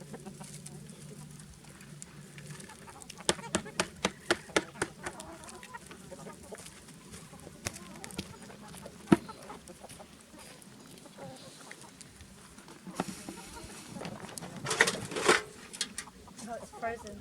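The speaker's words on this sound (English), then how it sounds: "We've got several varieties of chickens here." Several varieties of chickens on a permaculture farm in Portugal cluck and call in short, repeated bursts, sometimes close and sometimes further off, with people talking and scattered handling noises around them.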